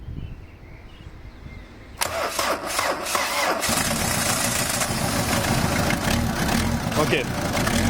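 A car engine cranks and catches after a quiet opening while the power steering system is being bled. It then settles into a steady, close idle that runs to the end.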